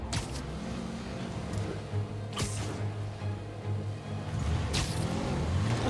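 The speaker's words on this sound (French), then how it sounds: "J'ai plus qu'à arrêter leur voiture." A car drives in Marvel's Spider-Man Remastered, its engine droning steadily with swells of revving and a few whooshing passes, moderately loud with no speech.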